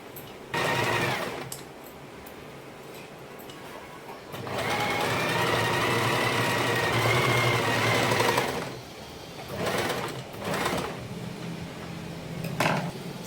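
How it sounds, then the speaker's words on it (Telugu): Sewing machine stitching a saree fall seam in bursts of steady motor whir with a busy needle rattle, close and clear, separated by short pauses and small handling clicks. "ఈ కుట్టు మీద కూడా మళ్ళీ స్టిచ్చింగ్ వేసుకోవాలండి"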